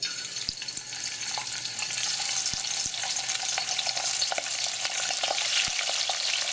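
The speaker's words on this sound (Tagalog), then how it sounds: "mag-iingat kayo sa prosesong to dahil itong mantika talagang tatalsik to" Pork belly pieces frying in hot oil, a dense, crackling sizzle that grows steadier and louder, with scattered pops and spits of splattering grease.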